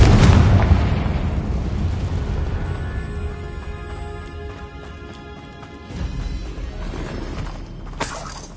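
A Confringo fire curse bursts in Hogwarts Legacy: a loud opening boom with shattering debris, then a long ringing, fading tail before a second smaller burst and a sharp crack near the end.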